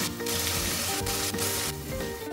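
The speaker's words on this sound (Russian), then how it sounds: "Теперь все это нужно деглазировать вином и бульоном." A pot of beef bourguignon with browned beef is deglazed with wine and broth, giving a loud, steady sizzle and crackle close by, with brief bursts of hiss and no talk.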